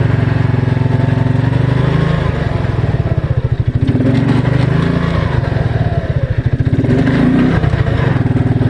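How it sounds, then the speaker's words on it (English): A 2001 Suzuki King Quad 300 ATV engine pulling in super low gear, a loud, close, steady mid-pitched chug that swells and dips a little as the throttle changes. "Now these are super low gears, you'll hear them straight away."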